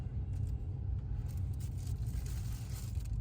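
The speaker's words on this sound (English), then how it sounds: "Get all those cars" Cars passing along a city street in Busan, a steady low traffic rumble with faint tire hiss and scattered higher noises, heard at a distance and fairly quiet, no talk.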